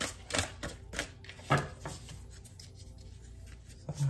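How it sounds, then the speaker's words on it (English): Oversized tarot-style cards are handled and split, giving a series of dry papery rubs and slaps in irregular bursts, close and fairly quiet with no talk. "So I'll have to split the deck a little bit."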